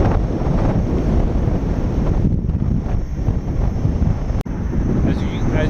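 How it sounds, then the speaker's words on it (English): Steady heavy wind buffeting the microphone while riding a Ninebot Z10 electric unicycle outdoors in light rain, a loud continuous roar broken by one brief dropout near the end. "As you can imagine, it's windy as well."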